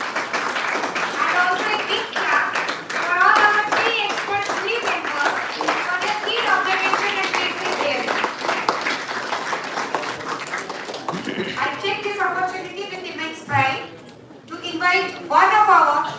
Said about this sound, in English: let's have once again a huge round of applause for all the different participants